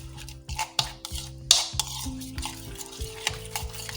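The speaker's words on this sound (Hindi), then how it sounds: "तमाम मसाले, मिक्स कर लेते हैं अच्छा सा।" A spoon stirs spices into a chicken tikka marinade for tandoori chicken, scraping and knocking against the bowl in a steady rhythm of close, distinct strokes, with no voices.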